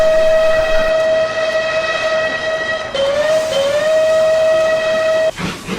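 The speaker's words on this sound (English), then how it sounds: "He blasted his whistle loud to try to warn Henry." A loud, sustained steam whistle blows close by, its pitch dipping slightly midway before it cuts off abruptly, followed by a burst of hiss.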